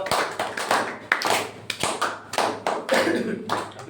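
A classroom of students applauds for fellow pupils, with bursts of hand clapping in uneven waves, close and lively, with a few taps and thumps.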